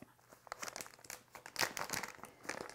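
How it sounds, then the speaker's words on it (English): A crinkly package of pepitas being opened with scissors in a kitchen, a close, quiet run of rustling crackles and small tearing snips alone. "luckily I've got my scissors handy to open those up"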